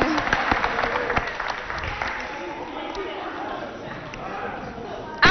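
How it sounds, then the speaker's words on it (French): At a stage event pitting SOS Village Tchad against Centre Dakouna Espoir, an audience claps. The crisp, scattered claps are loudest at first, then thin out under a talking voice, and a sharp noise comes at the very end. "On applaudit pour l'accompagner."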